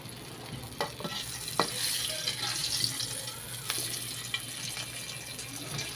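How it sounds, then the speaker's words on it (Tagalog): Onions sautéing in a pan, a steady close sizzle throughout with a few sharp clicks and scrapes of stirring over the hiss. "Susunod nating isasalang ang mga kaidol yung sibuyas para mabango naman ang ating luto"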